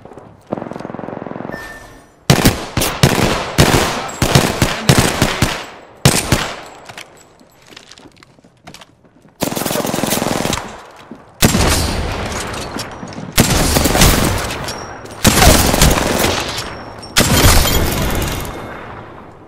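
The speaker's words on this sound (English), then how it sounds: "I am taking fire." Video game gunfire in a two-player match: loud, dense bursts of automatic fire and crashing impacts in repeated volleys, with short quiet gaps between them.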